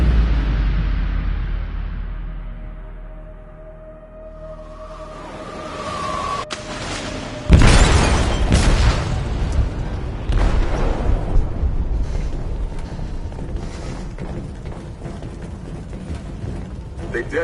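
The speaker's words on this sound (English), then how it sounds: "They detonated an explosive in the hold." An explosive detonates in a ship's hold in the video game Detroit: Become Human, a sudden loud blast that rolls into a long rumbling, crackling aftermath, with low machinery-like drones before it.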